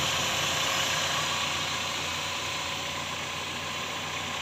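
A steady car engine idle rumbles close by, broadband and even throughout, with no talk over it.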